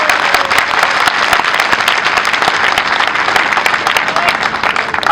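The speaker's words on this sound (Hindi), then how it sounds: "तालियों की गड़गड़ाहट से हम उनका धन्यवाद अर्पित करते हैं।" Dense, steady audience applause at a foundation-stone ceremony for a cow shelter and bio-CNG plant in Gwalior, loud and continuous throughout with no speech over it.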